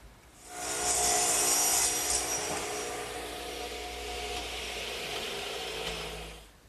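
Hand saw cutting an angled joint through wood for a garden swing, a steady rasping stroke sustained close up for several seconds with no talk, easing slightly toward the end.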